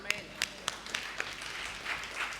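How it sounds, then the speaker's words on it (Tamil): An audience at a Tamil church service claps, with a few sharp separate claps building into brief light applause, heard near and under a speaking voice. "கைத்தட்டுங்க."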